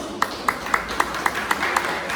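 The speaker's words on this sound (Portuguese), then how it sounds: "Sente, irmãos, aplaudindo e adorando a Jesus" Church congregation clapping together at a healing and deliverance service, a steady rhythmic beat of about eight even claps with a faint room wash behind it.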